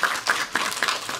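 Audience at a global citizenship speech contest clapping through a short burst of applause, with sharp, closely spaced hand claps at moderate level in a hall.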